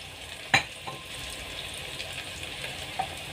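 Chopped onion sautéing over low heat in a pan for dal tadka, a steady soft sizzle with a sharp clink of a utensil near the start and a faint tap later.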